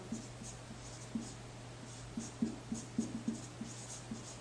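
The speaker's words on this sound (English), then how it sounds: "So let's go ahead and write that down." Pen or marker writing notes during a lecture on monocot root structure, a series of short, quiet scratchy strokes in uneven rhythm over a faint steady hum.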